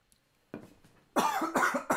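A close, loud cough burst followed by a couple more rough coughs in quick succession after a short quiet stretch.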